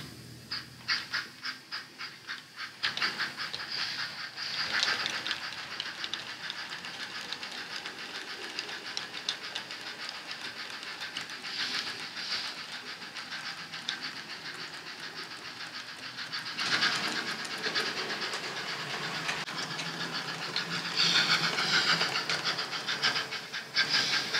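An On30 model train rolls along a layout steadily with a light clickety-clack and metallic hiss, swelling louder as it passes near and fading slightly between.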